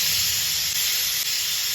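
A pressure cooker holding chicken lets out a steady loud hiss of escaping steam for a couple of seconds, with no talking.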